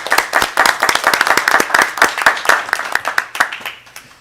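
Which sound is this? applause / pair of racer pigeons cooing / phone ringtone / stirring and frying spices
applause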